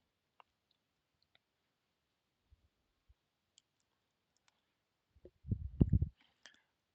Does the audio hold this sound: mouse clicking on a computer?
yes